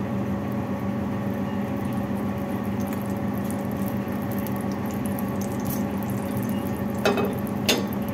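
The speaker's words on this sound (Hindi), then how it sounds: "सबसे पहले डालेंगे ऑयल" Cooking oil poured into a pan for aloo jeera, a steady liquid stream over a constant hum, with a couple of faint clinks near the end.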